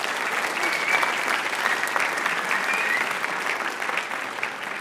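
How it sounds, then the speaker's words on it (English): An audience at a student writers expo gives another round of applause for a presenter. Dense, sustained clapping from many people fills the room evenly for about five seconds, loud and steady with a slight fade at the close. "Can we give Ming-Mei one more round of applause?"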